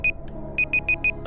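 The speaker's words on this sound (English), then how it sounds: "I got to stop that beeping." A high electronic beep sounds five times, short and evenly spaced, with one tone coming alone and then four in quick succession, loud against a faint background.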